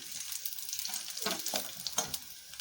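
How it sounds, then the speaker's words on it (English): Onion frying in groundnut oil in a pan: a soft, steady sizzle and crackle with brief scraping stirs partway through, close and fairly quiet, with no talking. "So I'll allow the onion to fry a little."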